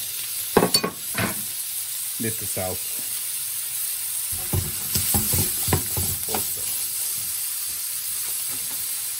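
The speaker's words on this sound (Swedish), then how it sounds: "och vi steker dem några minuter" Mushrooms fry in butter in a hot pan, giving a soft crackling sizzle broken by scraping stirs at intervals. Someone talks briefly over the cooking.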